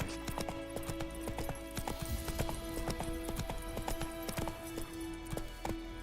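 Galloping horse in The Witcher 3 game: quick, even hoofbeats drum steadily and close by, backed by a low ambient hum.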